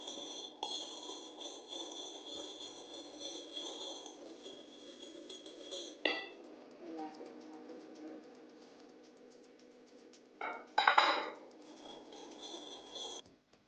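Egg yolk and sugar being whisked together in a bowl for an ube cake, a continuous soft rhythmic rubbing and clinking of the whisk, with a louder clatter near the end, no speech.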